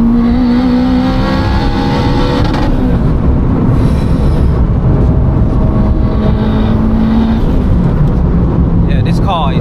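A 500bhp big-turbo Honda Civic Type R accelerating hard in fourth gear, heard from inside the cabin as a loud, steady engine roar with rising pitch and wind and road noise.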